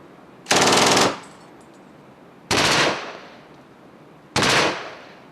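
Machine gun firing at Pointe du Hoc: three loud, close bursts of rapid fire, each lasting about half a second and separated by roughly two-second pauses, with no voices.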